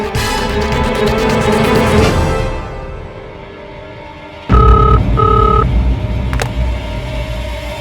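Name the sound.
telephone dialing tones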